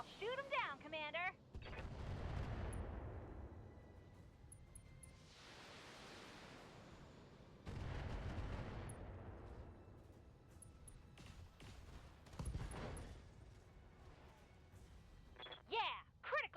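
Heavy mech weapons fire in BattleTech, with long roaring blasts and rumbling booms that swell and fade in several waves. Short bursts of sound at the start and end, all fairly faint and distant.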